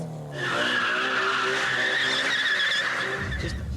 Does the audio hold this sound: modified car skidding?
yes